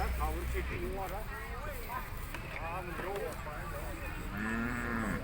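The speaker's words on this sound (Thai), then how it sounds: "กำลังทยอยกันครับเอาวัวขึ้นรถกลับนะครับ" Cattle moo repeatedly, some near and some farther off, as they are loaded onto a truck at a weekly livestock market in Na Kae, Nakhon Phanom, Thailand, with steady crowd noise and talk throughout.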